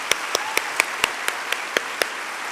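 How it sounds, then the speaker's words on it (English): Applause at a university convocation, with evenly spaced sharp claps close by, about four per second, over a steady wash of crowd noise. "Please join me in a round of applause."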